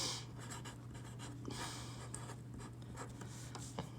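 A derivative being written out by hand during a math lesson, with soft continuous scratching strokes of a pen or pencil on paper under a low steady hum, close and quiet.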